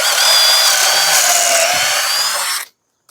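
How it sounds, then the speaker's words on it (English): A power drill whines loudly at a steady high pitch, boring pocket holes with a Kreg Rebel pocket hole joiner for a couple of seconds, then cuts off abruptly into silence. "I have a bunch of these holes to drill"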